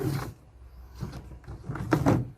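A screw-on plastic lid twisted onto a bucket in a few short scraping, grinding turns with pauses between, close and quiet, no voices.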